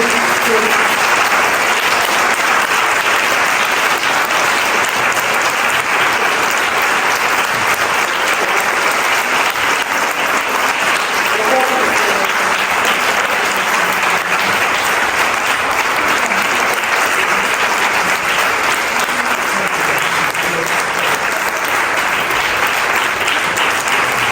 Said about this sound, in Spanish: Y yo creo que hay que aplaudir de nuevo a Susana antes de abrir.